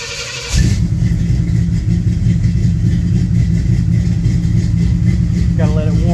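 A 1972 Pontiac LeMans engine cranks over and settles into a loud, steady idle right after starting, with a slightly uneven, missing rhythm running throughout.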